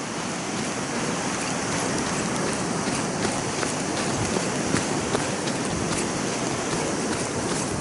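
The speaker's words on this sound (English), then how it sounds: "we're getting a lot more rain again. It's actually starting to drizzle hard now" Heavy drizzle falls outdoors while someone jogs, a dense, unbroken hiss of rain that stays loud and even throughout, with faint scuffs and thuds from movement mixed in.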